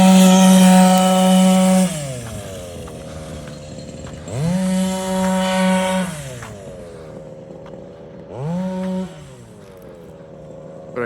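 A Baja 5B gas-powered RC car's small two-stroke engine revs in three loud, whining bursts, each climbing and then falling back to a lower idle drone, with no talk.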